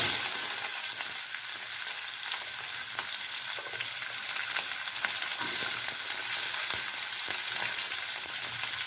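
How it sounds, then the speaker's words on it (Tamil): Onions sauté in a pan with mustard seeds and curry leaves, a loud, steady, close sizzle and crackle with a few soft stirring scrapes and no talking. "இது கருவேப்பிலை, வெங்காயத்தை நல்லா வணக்கிக்கலாங்க"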